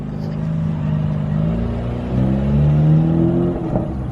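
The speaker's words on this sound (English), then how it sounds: "So weird seeing your car drive off, but hey, it sounds good." A BMW F80 M3 pulls away with its exhaust note rumbling steadily, the engine droning and rising slightly as the car drives off, close and loud with no talking.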